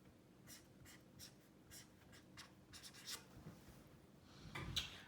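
Chalk or marker scratches and taps out short strokes on a board while an algebra graph is sketched, a series of faint, irregular writing sounds with no talk.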